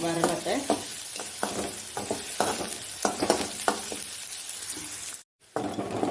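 Onions frying in a pan give a steady sizzle, broken by repeated scraping stirs of a spoon against the metal and a brief silent gap near the end.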